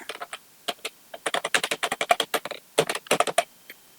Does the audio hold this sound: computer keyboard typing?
yes